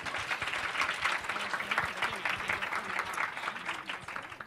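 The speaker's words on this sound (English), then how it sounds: "that deserves a round of applause" Audience at a business panel event breaks into sustained applause, a dense wash of clapping lasting several seconds, with faint talk underneath.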